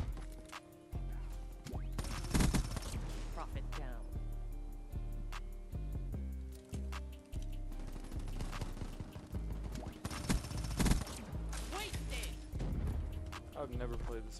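LV8 Basilisk gun firing in Call of Duty Black Ops 3 multiplayer: sharp, heavy bursts of shots in irregular clusters over game effects, with someone talking throughout.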